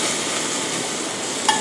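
Pork sizzling on a hot ridged Teflon grill pan as it is seared for grilled pork salad, a steady loud broadband hiss and crackle with a brief sharper pop near the end.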